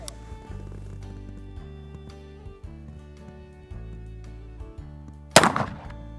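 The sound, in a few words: Uberti Schofield revolver gunshot at a shotgun shell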